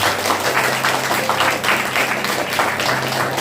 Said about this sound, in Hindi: जोरदार ताली वचन के लिए।